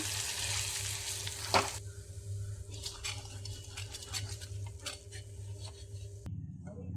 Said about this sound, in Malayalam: നന്നായിട്ട് ഒന്നുകൂടി നെയ്യിലിട്ടൊന്ന് ഉടച്ച് വഴറ്റി കൊടുക്കാം